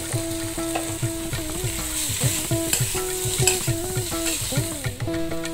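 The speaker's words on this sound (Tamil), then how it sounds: "உருளைக்கிழங்கு ரோஸ்ட் ஆகட்டும்." Potatoes roast in a pan for a potato fry, giving a busy sizzle under repeated scraping and stirring, with a tonal whine or music running underneath and no talk.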